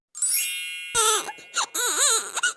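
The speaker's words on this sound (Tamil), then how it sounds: "குழந்தை அழுவுதுங்க" A baby wailing in a Tamil family comedy scene, a loud, close cry that rises and falls in long wavering bursts after a bright ringing tone, with no talk over it.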